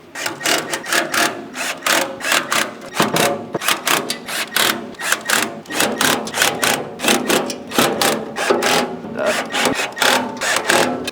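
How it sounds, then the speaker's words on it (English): Screws being tightened one after another while assembling a TTWC3 unit, giving a fast run of loud, close, rhythmic mechanical clicks and knocks that repeat without a break and with no talking. "Now you can just go around and tighten them all"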